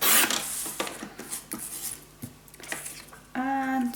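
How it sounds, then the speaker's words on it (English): Scissors snip a small strip of paper for the inside of a moody burgundy scrapbook mini album, making a few soft, close cutting and rasping strokes spread across the moment, ending with a brief tonal sound. "So definitely I'm going to cut a little piece for the in-between."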